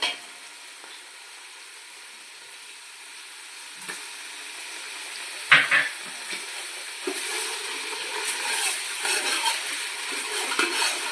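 Vegetables fry in a pan for vegetable dum fried rice. The sizzle starts faint, a utensil clatters once midway, and then the frying swells into a louder, crackling sizzle with no talking.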